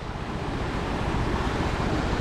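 Surf rolling onto a beach at Lepung in Aceh Besar, on a fishing outing, as a steady, dense wash of breaking waves mixed with wind rush, constant and fairly close, with no voices.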